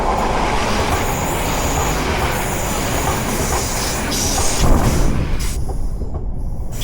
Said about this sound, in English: we might get a train coming through.